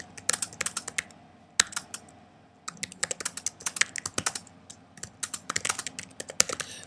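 Fingers type on a computer keyboard, quick irregular bursts of close, crisp key clicks with brief pauses between runs.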